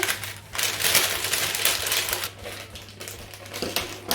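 Baking paper rustles and crinkles as it is pressed into a tart tin for a lemon tart, a steady, close crackling that runs for several seconds with a few brief pauses.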